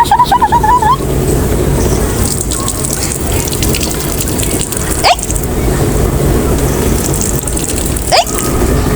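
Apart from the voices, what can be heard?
water falling, splashing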